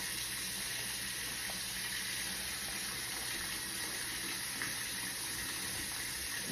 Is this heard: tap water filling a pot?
yes